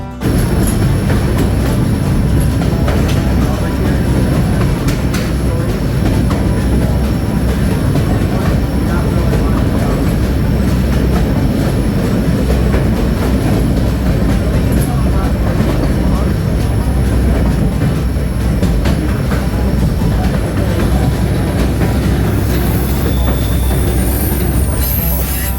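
A train rumbles loudly and continuously through a tunnel on the way to White Pass Summit, Alaska, with a dense metallic rattle and clatter of wheels echoing in the enclosed space, no pause throughout.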